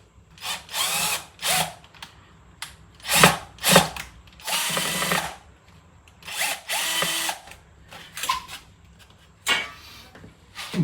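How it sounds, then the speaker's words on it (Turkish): A cordless drill whirs in repeated short bursts, stopping and starting with ratcheting pauses between, close up, as screws are driven in one after another. "Normalde matkap bu ama ucuna ne de versen o."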